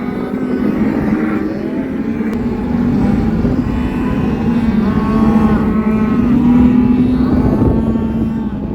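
Black Angus cattle lowing loudly and repeatedly while being herded on foot at a Rocky Mountain foothills ranch on branding day, with overlapping long moos over a constant rumbling background.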